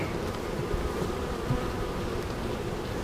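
Honey bees humming around an open hive during a frame inspection, a dense, continuous buzzing swarm close by, steady and unbroken.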